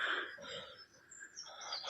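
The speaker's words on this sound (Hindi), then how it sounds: "चिड़ियों की चहचहाट, पंछियों की आवाज़" Birds chirp and twitter in a dense forest near a luxury eco glamping stay in Kanatal, faint high calls layered over soft outdoor ambience.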